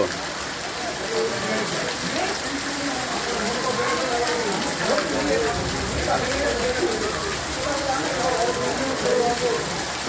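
Steady heavy rain pours down in Wankaner with constant dense hiss and patter, while voices murmur faintly underneath.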